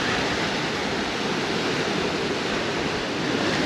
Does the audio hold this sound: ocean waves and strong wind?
yes